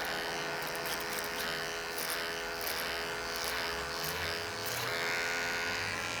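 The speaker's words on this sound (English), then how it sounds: "we're just going to clipper over comb it" Electric hair clippers buzz steadily at close range during a clipper-over-comb pass on a low taper haircut, a continuous motor hum with faint brushing strokes through hair and no talking.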